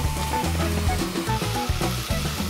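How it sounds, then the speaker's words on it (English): Onion, garlic and ginger sizzle steadily in a saucepan, with a loud, continuous frying crackle heard up close and faint stirring clatters mixed in. "get your onion, garlic, and ginger sauteing in your saucepan until lovely and golden"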